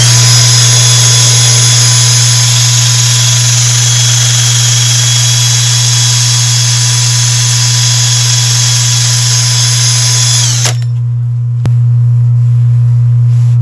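A woodturning lathe spins a finished turned piece during buffing, a loud steady motor whine with a constant low hum that cuts off near the end, leaving only a faint hum behind.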